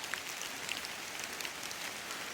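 Rain begins falling at a graveside in Stringtown, Kentucky, a quiet, dense patter of drops steadily ticking on surfaces, faint and close with no voices.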